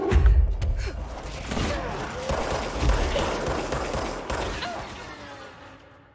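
A spore turret fires at the player in the game Control, a dense rattling fusillade of rapid shots that keeps going through the whole stretch, loud and close.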